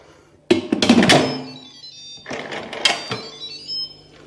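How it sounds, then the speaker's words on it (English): Metal and plastic clatter and scrape as an Instant Pot IP-DUO60 pressure cooker lid is twisted on, with a couple of bursts of rattling movement and a faint tonal ring in between. "Then you twist on the lid."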